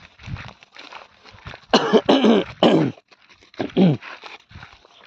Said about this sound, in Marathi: थोडासा सर्दी खोकल्यामुळे प्रॉब्लेम आहे.